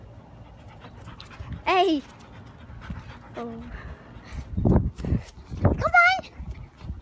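Dogs panting heavily while running around in a backyard game of tag, with bursts of breathy panting and a few short yelps or whines, as a person calls out excitedly over them.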